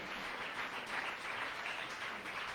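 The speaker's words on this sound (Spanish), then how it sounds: "Dele fuerte ese aplauso al Rey." A church congregation claps together in steady, dense applause, fairly faint and held at an even level throughout with no voices standing out.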